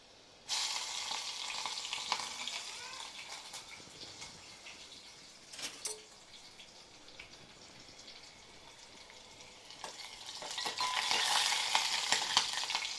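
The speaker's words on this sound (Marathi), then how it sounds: "तेल गरम झालेले आपण लसूण टाकून घेऊ आधी लगेच मिरच्या पण टाकून घेऊ" Garlic and green chilies sizzle and crackle in hot oil, a steady frying hiss throughout that swells louder toward the end, with a few stirring clinks.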